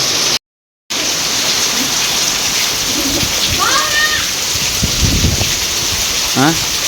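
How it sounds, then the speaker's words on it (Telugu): Steady rain hiss fills the whole recording, with a brief dropout near the start, faint speech underneath and a few bird-like chirps. "ఫుల్ తడుస్తున్నారండి వర్షం పడుతుందిగా"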